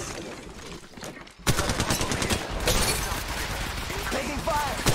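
Gunfire in the Apex Legends Mobile video game, with steady rapid automatic shots that jump sharply louder partway through and keep hammering close and dense until the end, under a busy mix of game effects.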